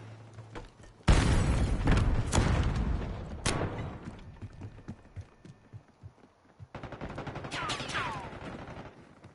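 A frag grenade bursts with a sharp, loud blast in a video game shooter, followed by scattered gunfire cracks and smaller bangs, then a second flurry of shots after a brief lull.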